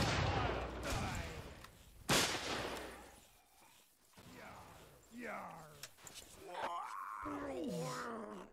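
A single loud cannon blast booms out partway through a Battlefield 1942 Pirates mod naval battle, with gruff voices and game noise around it.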